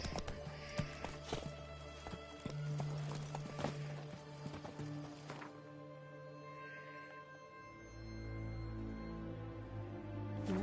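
Roach, the horse in The Witcher 3, gallops with rapid rhythmic hoofbeats over game music. The hooves fade out partway through as the music carries on.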